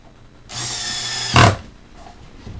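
A power drill drives a screw into a wooden toy castle: one close, loud whine lasting under a second, ending in a brief sharper grinding burst as the screw seats, then quiet.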